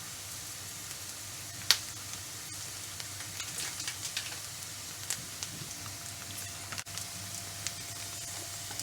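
Onions softened for about four minutes sizzle gently in a pan as spices for Cajun prawns go in, a steady low fry with a few small pops and stirring scrapes, moderately close and with no talk.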